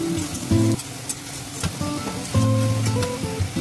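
Grated onion frying in a pan with oil and caraway seeds while being stirred, a steady sizzle under clattering strokes and a few tonal background sounds, close and fairly loud.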